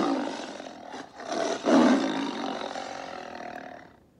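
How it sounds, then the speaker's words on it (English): A tiger gives a long, loud, rumbling roar that swells in the middle and then fades away, heard alone and close. "This is a tiger."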